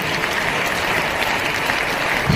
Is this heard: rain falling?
no